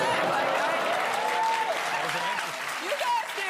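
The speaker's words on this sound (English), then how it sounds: "you can clap all you want" A studio audience claps steadily throughout, a dense, sustained wash of applause while people talk over it.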